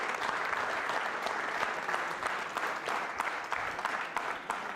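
Audience at a university quiz show applauding steadily, a dense, even patter of many hands clapping throughout at moderate distance, with no talk over it.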